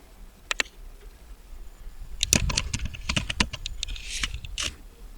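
Bursts of computer keyboard typing with a few quick keystrokes at first, then a denser run of clicking and tapping, close and moderately loud with no talking.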